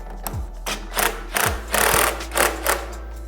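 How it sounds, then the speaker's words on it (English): A pneumatic impact gun tightens the case splitter on a Suzuki RM250 two-stroke engine, firing in several short rattling bursts with brief pauses between them, loud and close. "just grab your impact gun and tighten down"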